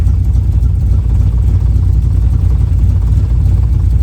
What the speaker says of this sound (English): After I adjusted the timing, it is idling a lot better.